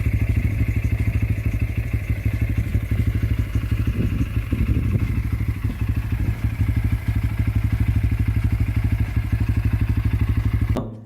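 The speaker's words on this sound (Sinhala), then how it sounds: "මේකේ සවුන්ඩ් එක ටිකක් වෙනස් ස්පෝටි සවුන්ඩ් එකක් දෙනවා." A Bajaj Pulsar N160 motorcycle engine idles close by with a steady, rapid, throbbing beat and a slightly sporty tone, running evenly for about eleven seconds before cutting off, with no talking.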